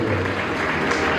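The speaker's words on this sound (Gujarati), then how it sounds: "એકવાર જોરદાર તાળીઓનો ગગડાટ અમારા દેવીભાઈ માટે છે" Loud, dense applause from a talent show audience in Surat, many hands clapping together in a sustained roar.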